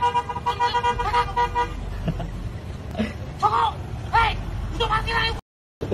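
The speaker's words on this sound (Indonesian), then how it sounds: "sang sopir membunyikan klakson" Several short car horn toots sound in quick succession over traffic noise and murmuring voices, a driver clearing motorcyclists parked at the roadside by a bridge in Indonesia, then a brief silence at the end.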